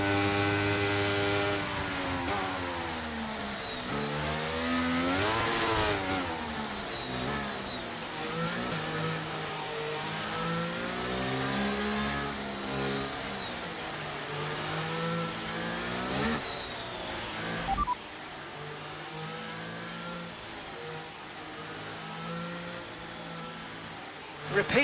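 Race cars in a motor racing event accelerate as the field restarts behind a safety car on a wet track, engine tones sweeping up and down repeatedly and loudly through the whole stretch, with a voice talking over the noise.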